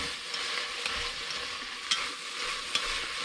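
Bitter melon with egg and green onion stir frying in a pan, an even, moderately quiet sizzle with a couple of sharp spatula clicks and no talk.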